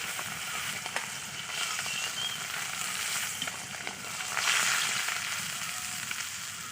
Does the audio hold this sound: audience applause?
no